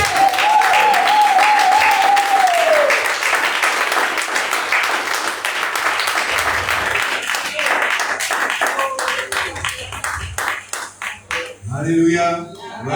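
A church congregation claps and applauds together in a sustained, dense wash of hand claps that thins out toward the end, with voices rising over it in the closing seconds.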